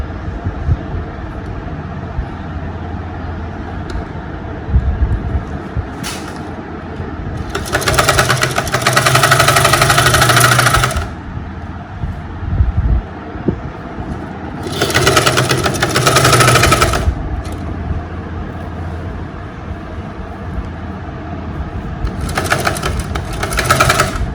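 A sewing machine runs a piping seam around the neckline of a lined top, three bursts of loud steady whirring of a few seconds each, separated by quieter handling and background hum.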